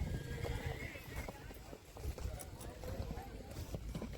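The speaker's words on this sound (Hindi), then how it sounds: "देखिए आज बहुत ही पावर में है घोड़ा।" A racing horse gallops at a Vekariya horse race field in Kutch, its hoofbeats thudding in a rapid rhythm under someone talking, with a brief whinny among the faint outdoor noise.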